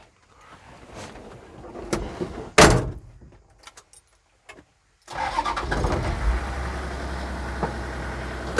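Clicks and a door thump, then quiet, before the 2H diesel engine of a 1973 Toyota Land Cruiser FJ45 cranks and catches into a steady, rough idle that continues loudly to the end.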